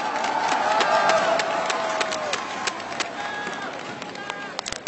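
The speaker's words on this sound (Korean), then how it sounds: "여러분 다시 한번 이정 선수에게 축하의 박수 부탁드립니다." At the OSL final winner ceremony, a large indoor audience applauds and cheers, with whoops and shouts over dense clapping that slowly thins out into scattered claps.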